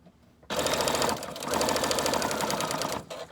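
A sewing machine back-stitches fabric onto a junk journal cover, a loud, close, rapid mechanical whir running continuously with a brief dip in speed partway through before stopping.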